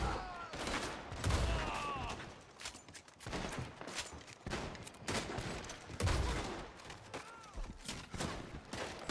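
Rapid gunfire from a Red Dead Online shootout at the Blackwater Saloon, with dense overlapping shots and bursts crackling through the whole stretch, loud and close, with a voice briefly under the barrage.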